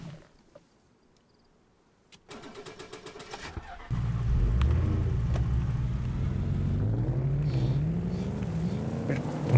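A car engine in DayZ on the Deerisle map starts up and settles into a loud, steady idle, with revs gently rising and falling after a few seconds of quiet and a burst of clatter.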